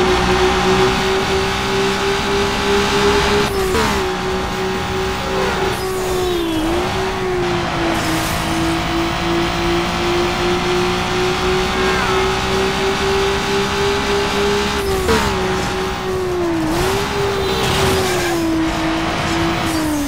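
A car engine in Need for Speed Underground 2 holds a loud, steady high drone that dips in pitch at gear changes, with squealing tires, continuous for the whole stretch.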